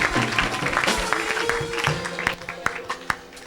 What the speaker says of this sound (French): Acclame, acclame, acclame, acclame.